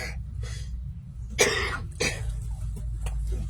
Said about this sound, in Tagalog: Ang mahaderang ubo